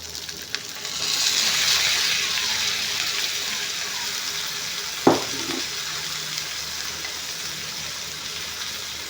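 Tomatoes frying in a pan with spices, a steady soft sizzle with one sharp clank of a utensil partway through as the mixture is stirred.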